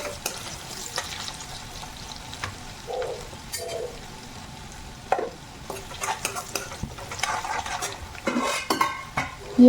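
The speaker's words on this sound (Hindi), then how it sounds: "प्याज को थोड़ा तेल में सौते कर लेंगे" Chopped onions sautéing in oil in a pan, a soft steady sizzle with intermittent metallic scrapes and taps of a spoon being stirred around, nearby and moderately loud, with no voices.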